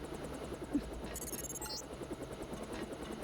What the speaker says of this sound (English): Time to see if this stealth copter is worth all the fuss.